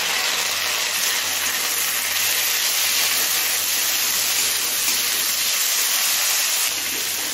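Chopped tomato frying with browned onion in a pan over a medium flame, a steady close sizzling hiss that runs on evenly with no talk.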